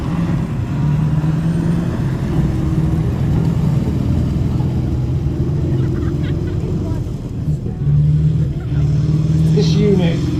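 A 46-ton AS-90 tracked tank with an American Cummins 15-litre V8 diesel engine revs at a military show arena. It gives a loud, steady, heavy low rumble that swells and eases throughout.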